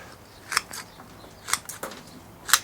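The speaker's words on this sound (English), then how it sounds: "all I'm going to do is just snip them off a little bit" Scissors snip the roots of a potted citrus tree, making a few sharp, close clicks spaced about a second apart with quiet pauses between.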